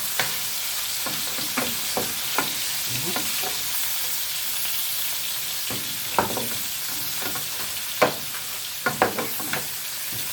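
Pieces of lamb browning in a pan are turned over, giving a steady crackling sizzle broken by irregular sharp spatula knocks and scrapes, close and fairly loud, with no talking.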